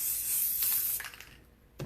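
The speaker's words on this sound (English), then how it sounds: "let's go ahead and put the spray on." A close, steady hiss of aerosol adhesive spray lasting about a second, then quieter rustling and a short final burst.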